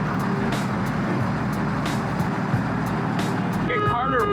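A car pulls up and rolls in close by, with a steady, loud rumble of engine and tyres that fills the whole stretch and a brief tonal squeak near the end.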